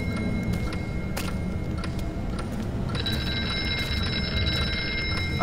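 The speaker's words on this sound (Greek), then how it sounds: "Κάπου έξω ακούω τηλέφωνο." A telephone in the Horror Night VR horror game rings from somewhere outside the room. It sounds as a thin electronic tone, faint and steady against a dense background of rumbling noise and occasional clicks.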